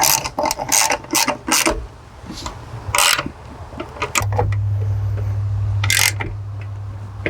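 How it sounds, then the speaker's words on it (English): A ratchet cranks mounting bolts down tight while a Smooth Moves box system and Ultra Suspension are installed: bursts of rapid clicking in short strokes, close and clear, joined later by a steady low hum. "Now I'm going to crank those down nice and tight."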